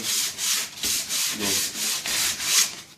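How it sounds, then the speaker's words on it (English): Sandpaper scrapes back and forth across painted wood in quick, even strokes, distressing the finish, about eight rasping passes, close and alone. "you come back with your sandpaper again and you can start sanding on it"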